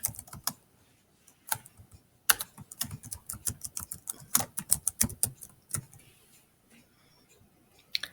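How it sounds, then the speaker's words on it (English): Rapid keystrokes clatter on a computer keyboard, fairly close, in uneven bursts and pauses over several seconds, with no talking. "I'm going to type"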